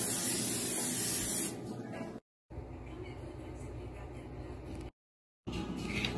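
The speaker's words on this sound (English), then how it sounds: "And some cooking spray." Cooking spray hisses from a can in two short bursts with brief pauses between them, loud and close, while a casserole of macaroni and shrimp is being prepared.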